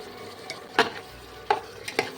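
Spoon scraping through spice masala of chili and cumin powders frying in oil in a pan for Bengali chicken curry: a few quiet, sharp stirring strokes with a soft sizzle underneath, close up and without speech.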